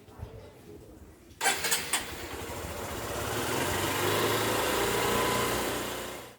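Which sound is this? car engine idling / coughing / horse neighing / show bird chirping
car engine idling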